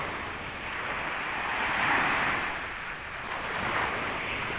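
Morning surf at Bang Saen beach, a steady wash of breaking waves swelling and easing in broad, hissing surges, with light wind noise on the microphone and no voices.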